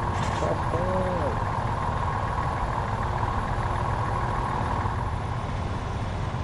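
Truck from the mobile driving game Truck Legend 1995 (Trucker Of Europe 3), braking into a curve with a steady loud engine drone throughout, a brief hiss near the start and short tonal blips early on, no talk.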